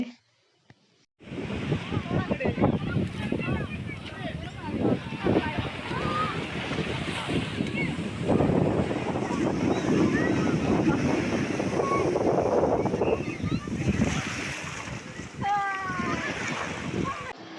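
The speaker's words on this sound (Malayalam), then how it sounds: "തിരമാല കണ്ടതും ടാസു ആദ്യം ഇതൊന്ന് പേടിച്ചേ." Ocean waves roll and wash onto Cherai beach, with strong wind buffeting the microphone and a continuous rushing surf throughout.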